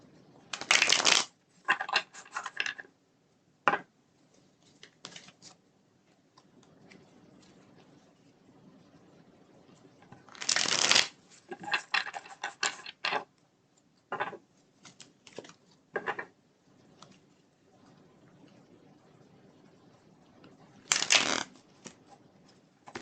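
Tarot cards are shuffled in several quick riffling bursts separated by quieter pauses, close and crisp, with no talk.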